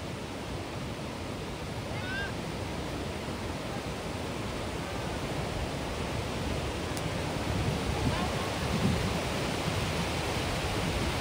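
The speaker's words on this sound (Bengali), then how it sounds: "আবারও একটা ঢেউ আসছে বিশাল" Large sea waves break on the beach at Digha, a constant loud roar of surf with no gaps that swells slightly toward the end.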